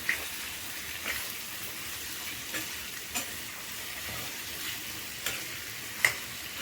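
Eggplant, potato and broad beans sizzle softly in a frying pan while a spoon stirs them, with a light scraping stroke roughly every second over a quiet, steady crackle and no voices.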